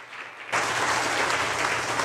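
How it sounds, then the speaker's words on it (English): A congregation at a worship service breaks into applause for the morning's cooks, a sudden burst of steady clapping that begins after a brief quiet moment and continues evenly. "Give a round of applause to our cooks this morning"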